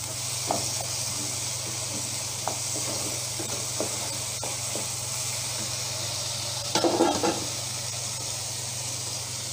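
Meat and pumpkin frying together are stirred in the pan, a steady hissing sizzle over a constant low hum, with light intermittent scrapes and a louder burst of stirring toward the end.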